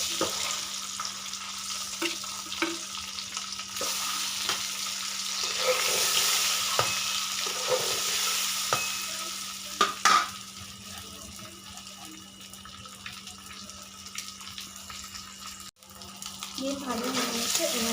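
An egg frying lightly in hot oil for a thin egg curry gives a steady close sizzle that runs throughout, with a few soft clinks and scrapes.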